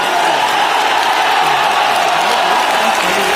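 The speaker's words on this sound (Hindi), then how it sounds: "एक बार सुधांशु जी के लिए जोरदार तालियों और श्री राम के जयघोष के साथ" A college audience at a Shri Ram festival event at GL Bajaj College bursts into loud, sustained applause mixed with crowd cheers and shouts, the dense clapping continuing unbroken throughout.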